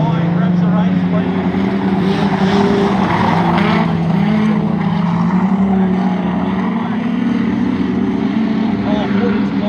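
Standard saloon race cars roar past at Swan Hill speedway, a loud, continuous engine drone with a steady low hum, under excited race commentary throughout.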